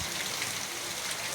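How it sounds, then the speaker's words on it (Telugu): Heavy rain pours down in a steady, dense hiss with no breaks, heard briefly and at moderate distance. "ఇప్పుడు చూడండి అసలు ఎంత పెద్ద వర్షం అసలు."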